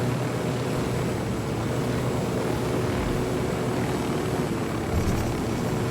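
Helicopter in the Ghost Recon Wildlands video game, a steady loud rotor and engine drone holding level throughout, with a faint thump near the end.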